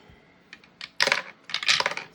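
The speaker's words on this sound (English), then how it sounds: "Let's get the dice tower." Dice roll through a dice tower: a couple of light clicks, then two sharp clattering bursts of dice tumbling and landing, close and crisp in a quiet room.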